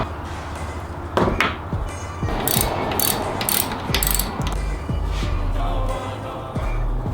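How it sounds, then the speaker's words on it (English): Ratchet clicking steadily while undoing the lower alternator screws on a 1999-2004 New Edge Mustang GT with the 4.6L SOHC engine, close and loud, with bursts of rapid pawl clicks between short pauses and clanks. "you can then undo the two screws at the bottom of the alternator."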